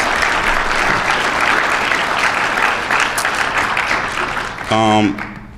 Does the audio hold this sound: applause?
yes